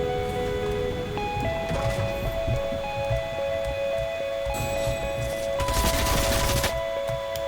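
Rapid video game gunfire in a first-person shooter, bursts of shots crackling over steady background game noise with occasional louder volleys near the end.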